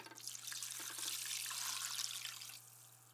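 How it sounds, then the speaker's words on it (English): Stock poured into a roasting pan for roast turkey, a steady liquid splashing and trickling for about two and a half seconds before tapering off, over a constant low hum. "Add the stock to the roasting pan."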